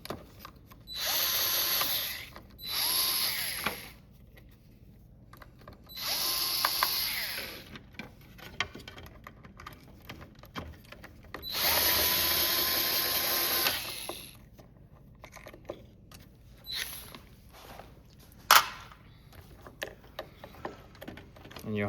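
A power screwdriver backs Phillips screws out of a Minn Kota Powerdrive trolling motor control board in several short whirring bursts, with quiet clicks and handling noises in the pauses between them.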